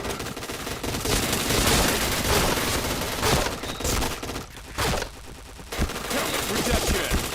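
Sustained automatic gunfire from the online shooter game Point Blank, loud dense rapid bursts with only brief pauses between volleys.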